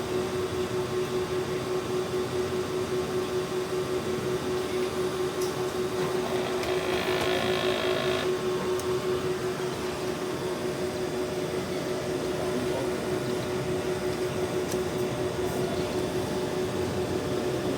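An inkjet printer runs a head cleaning cycle, a continuous steady mechanical whir with a brief rougher grinding burst midway, heard close with no talking.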